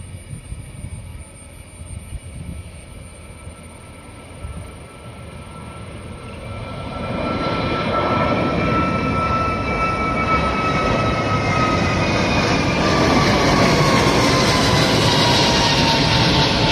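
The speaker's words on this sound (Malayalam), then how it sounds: "കുറച്ചേരത്തെ കാത്തിരിപ്പിന് ശേഷം വിമാനം ടേക്ക് ഓഫിനായിട്ടൊന്ന് വരുന്നുണ്ട്" A jet airliner taking off at Karipur Airport: a quiet, distant hum at first, then a loud engine roar that builds around the midpoint and holds steady and close to the end, with no talking.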